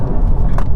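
A new Toyota GR Yaris drives on a track, its engine giving a loud, steady low rumble in a short burst, pulling in too high a gear.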